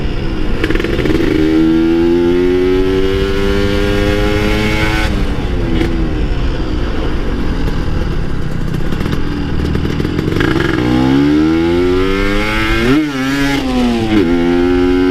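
A ported two-stroke Kawasaki Ninja motorcycle engine revs loud and close, its pitch rising and falling through several throttle blips and sustained high-rpm runs with a raspy crackle, with no talking.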